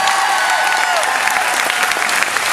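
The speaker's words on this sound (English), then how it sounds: "Let's give this young man a big round of applause." An audience at an Elvis festival in Lake George applauds a young Elvis performer in the youth division, a steady, loud wash of clapping with no talk over it.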